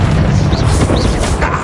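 A Bombarda blasting spell goes off in Hogwarts Legacy, a dense, loud booming burst with heavy low rumble that fills the moment, a couple of whooshing sweeps riding on top.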